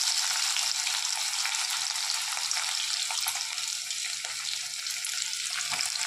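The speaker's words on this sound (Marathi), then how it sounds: "आता याची फोडणी देते" Tempering (phodni) for mixed dal sizzling loudly in hot oil, a dense continuous crackle that stays strong and close for the whole stretch, with no talking.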